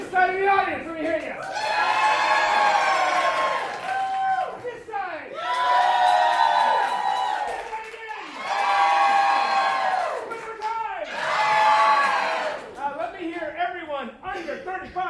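A large crowd cheers, whoops and screams in several loud bursts, each swelling and fading, with short lulls between them.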